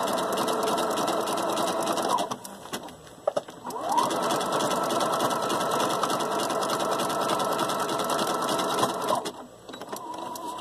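A sewing machine running a blanket stitch along the finished edge of a small gown, sewing in long steady bursts with a short pause and a few clicks partway through, close and clear.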